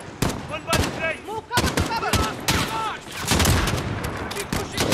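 Rapid gunfire in the Modern Warfare campaign, loud close shots and machine-gun bursts cracking in quick irregular volleys, with a voice briefly heard amid the shooting.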